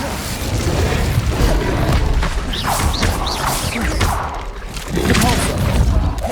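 An Incendio fire spell in Hogwarts Legacy erupts in heavy booming crashes and whooshing flames through a loud, busy duel, with whistling magic streaks and a voice calling out between blasts.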